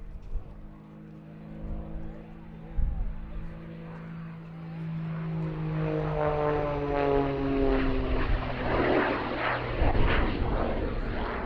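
Jet-powered Pitts biplane flying an inverted flat turn at the Duxford summer airshow, its engine a steady droning roar that swells and shifts in pitch as it passes in front of the crowd.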